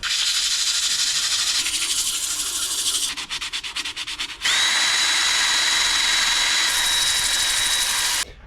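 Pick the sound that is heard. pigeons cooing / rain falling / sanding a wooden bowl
sanding a wooden bowl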